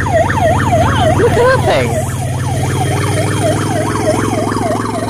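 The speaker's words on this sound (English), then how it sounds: "That must be the new fire engines." New fire engine's wailing siren sounding at a fire station, a loud, rapidly cycling yelp repeating steadily close by, with a brief burst of other tones and people talking over it.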